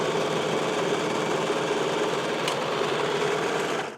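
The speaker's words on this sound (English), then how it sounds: "When you're serging something that is a circle, when you get to the end, just fold your cloth out of the way." A serger overlock machine stitches cloth in a close, loud, rapid whirring rattle that runs steadily for about four seconds before stopping.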